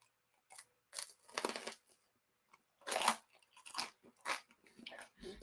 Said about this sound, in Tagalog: Crunchy na siya dahil super toasted.